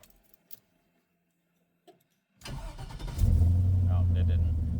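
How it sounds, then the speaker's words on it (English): A car engine is cranked with the key after a quiet pause: the starter whirrs briefly, then the engine catches and settles into a loud, steady idle close by. "I'll turn the key off and immediately back on and it'll fire right back up."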